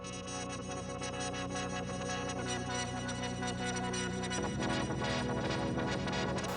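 A synthesizer filter stepped by a sample-and-hold random voltage, with reverb, gives a steady rhythmic, throbbing pattern of jumping tones, loud and continuous without talk, shifting character partway through.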